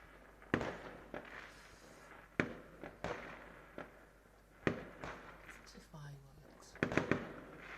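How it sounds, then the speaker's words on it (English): Fireworks crack and pop in a series of sharp distant bursts, roughly one every second or so, heard outdoors under a steady background hum with a person talking nearby. "Fireworks."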